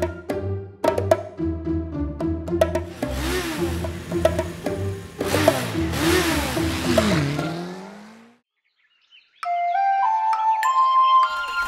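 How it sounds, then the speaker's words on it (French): A small black motorcycle engine revving in a children's song, rising and falling whines over music, the music cutting out briefly before a higher melodic tune resumes. "la petite moto noire. Et ce n'est pas tout. Écoute, elle fait vroom vroom vroom vroom."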